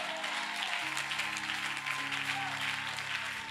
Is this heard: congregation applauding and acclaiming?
yes